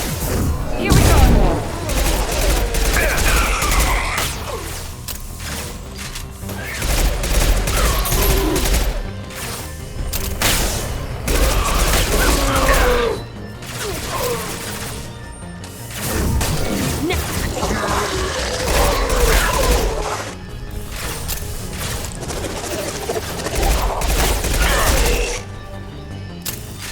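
Gunfire in the Mass Effect 2 video game on Horizon: repeated waves of rattling weapon fire and mechanical clanks with booms, mixed with voices talking between bursts.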